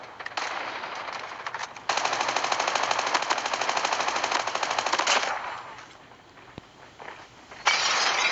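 Rapid automatic machine-gun fire in the mobile shooter Call of Duty Mobile, sustained bursts of loud gunfire with a brief lull before a final burst resumes near the end.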